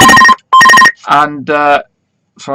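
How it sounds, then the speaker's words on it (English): A telephone rings with two short electronic trilling bursts, close and loud, followed by someone speaking over it. "I've got a phone ringing here"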